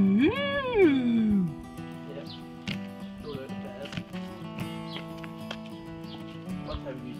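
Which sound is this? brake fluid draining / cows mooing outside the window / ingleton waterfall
cows mooing outside the window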